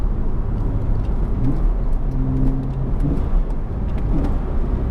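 A Porsche Boxster with a manual gearbox drones steadily and loudly while driving, a low engine rumble mixed with road and wind noise, with no voices.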